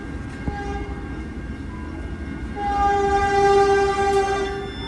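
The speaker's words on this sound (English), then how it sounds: "I hear the horn of our sister train 424." A passing Caltrain commuter train's horn sounds a sustained multi-tone blast over the rumble of rolling railcars, growing louder as it approaches.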